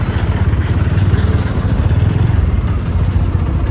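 A motorcycle engine runs nearby at a low, steady idle with a rhythmic throb while the bike is being parked near a temple entrance.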